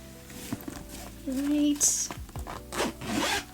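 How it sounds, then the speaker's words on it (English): A zipper is pulled along the back pocket of a pink Kate Spade tote bag, a short rasping run close by amid rubbing and handling of the bag, with some speech nearby. "And then you even have a zippered pocket in the back"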